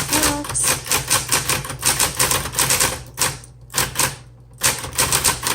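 A 1970s Smith Corona Coronet Super 12 manual typewriter is typed on in quick, rhythmic bursts of sharp keystroke clacks. Brief pauses break up the runs, and the close, loud mechanical strikes are heard with no speech.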